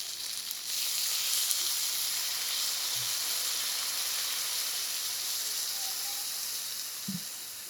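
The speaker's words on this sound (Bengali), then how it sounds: "এবার আমরা জল দিয়ে দেবো।" Water poured into a pan of frying onion-chilli fish curry sets off a loud, steady hiss of sizzling steam that holds evenly close up, with a couple of faint knocks.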